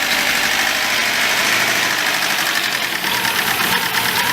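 An engine just restarted after work runs roughly, a loud, close, continuous rattling and knocking drone with uneven vibration throughout and no talking over it.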